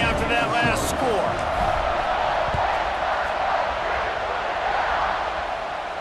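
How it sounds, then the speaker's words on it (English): Football stadium crowd at Ohio State vs Michigan roars and buzzes steadily after a score, a dense wash of voices with a few louder shouts early on. "this crowd is buzzing after that last score."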